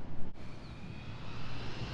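A fixed-wing airplane flies overhead, its engine a steady, fairly faint broadband rumble and drone that holds across the short span, with a brief dip early on.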